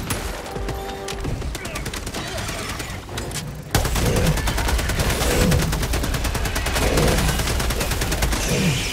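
Sustained automatic gunfire in Helldivers 2 aimed at a creature's tail, a loud rapid stream of shots that grows heavier midway, with faint voices underneath.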